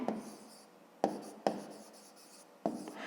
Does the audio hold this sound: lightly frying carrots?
no